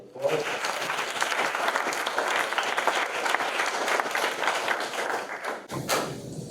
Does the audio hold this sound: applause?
yes